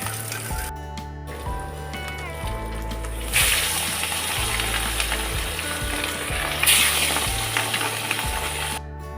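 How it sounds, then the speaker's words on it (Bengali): Fish frying in a pan of oil at home, a continuous loud sizzle and hiss with a regular low clatter, and the sizzle swells twice, no one talking. "তো মাছগুলো ভাজা বসিয়ে দিয়েছি"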